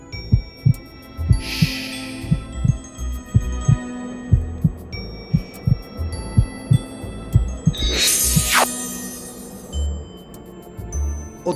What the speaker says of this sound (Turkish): Karşılaştığımız andan itibaren kalbinin sesini kulaklarımda duyuyorum.